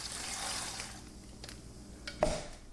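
Marinade is poured into a bag of tilapia, a soft liquid pour followed by a brief splash near the end, faint and close.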